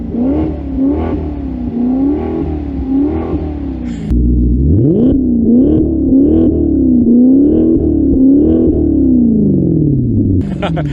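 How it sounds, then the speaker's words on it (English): A Maserati GranCabrio V8 convertible is revved in neutral, giving loud repeated throttle blips that rise and fall in pitch over a steady rumbling idle, close up. "I put it in a neutral really quick to give it a couple of revs"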